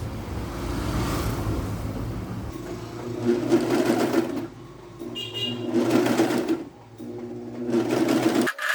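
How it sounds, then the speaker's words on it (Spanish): A sewing machine overlocks the selvedge edge of a denim skirt in three close, loud bursts of rapid whirring, separated by brief quieter pauses. "Si vamos a filetear por todo el orillo, la fileteamos así tal cual está."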